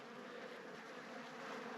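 Honeybees stir inside a hive being readied for winter, giving a faint, steady, soft hum heard up close with no speech.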